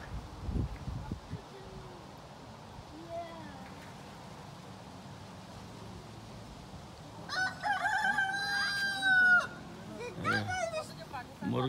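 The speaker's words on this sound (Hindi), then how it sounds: "मुर्ग बांग दे रहे हैं।" Roosters crow on a farm in Montreal, Canada, with a couple of loud, drawn-out calls near the end above quiet background noise, and people talking.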